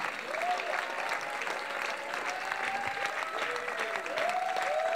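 Church congregation applauding during a sermon, dense continuous clapping with some cheering, steady and fairly loud, with faint voices mixed in.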